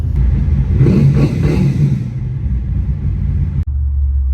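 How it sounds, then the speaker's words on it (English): A 1965 Pontiac Catalina drag car, a hot rod pickup, rumbles steadily from the cab while driving, with a brief rise in engine note early on and a sudden drop near the end, no talk. "Alright, so I'm driving Rob's little hot rod pick-em-up truck."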